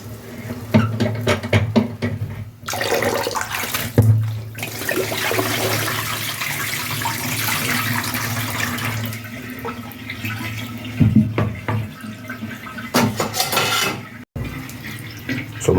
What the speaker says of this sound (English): So I'm throw the last water through the strainer.